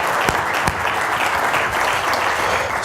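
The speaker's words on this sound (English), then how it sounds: "let's give a round of applause to Tom and the organization you've built." An audience at an annual industry conference breaks into sustained applause, dense clapping filling the hall evenly throughout.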